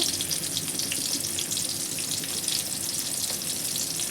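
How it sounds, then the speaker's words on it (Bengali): Cumin, dried chili and chopped tomato frying in oil in a kadai, a dense continuous sizzle with crackling spatter, close and steady throughout with no talk. "এখন কড়াইতে তেল দিয়ে পুরনে দিয়ে দিচ্ছি জিরা শুকনো লঙ্কা আর একটা টমেটো কুচি"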